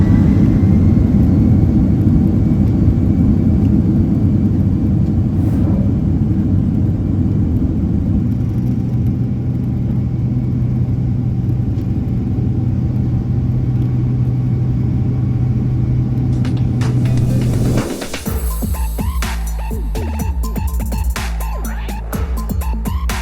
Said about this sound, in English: After a really long taxi across Singapore Airport, it was finally time to get airborne for my flight to Papua New Guinea